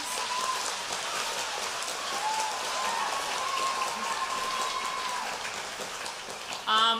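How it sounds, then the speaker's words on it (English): Audience applause for teachers at an elementary school spring concert, a dense, even patter of many hands clapping that holds steady for several seconds in a hall. "So if you could please give them a round of applause."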